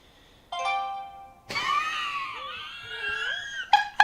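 A phone rings out with a clear electronic melody of bright tones, starting after a short pause and continuing with sliding chimes and a final pair of sharp notes, alone and close.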